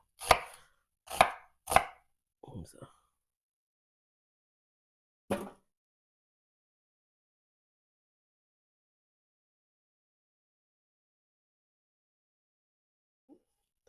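Knife chopping yellow onions into big pieces on a cutting board, three sharp knocks in quick succession, then a softer cut and a lone later chop, close and crisp, followed by near silence.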